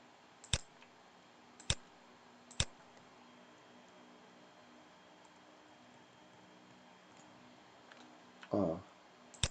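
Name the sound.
computer mouse clicking on spreadsheet cells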